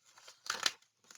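Scissors snip apart paper journaling cards: a couple of quick, crisp, close cuts within about a second, quiet, with no voices.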